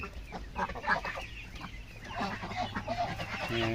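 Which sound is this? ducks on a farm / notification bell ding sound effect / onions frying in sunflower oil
ducks on a farm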